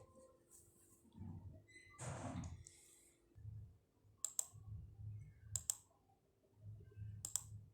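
Faint, sharp clicks of a computer mouse during a software installation, with a few isolated clicks spaced seconds apart over soft breathing and low room hum.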